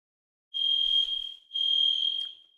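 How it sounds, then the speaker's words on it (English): A fire alarm sounds two loud, shrill electronic beeps in a row, close by, with no talking over them. "That may be a fire alarm. It only went off once though"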